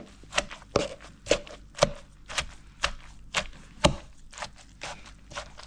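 Green papaya salad ingredients are pounded hard with fish sauce in a mortar, about a dozen sharp, evenly spaced thuds in a steady rhythm, close and clear with nothing else heard.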